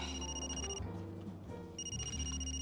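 A telephone rings in steady electronic trills, pausing briefly between rings, fairly loud against a low background hum, with no one speaking.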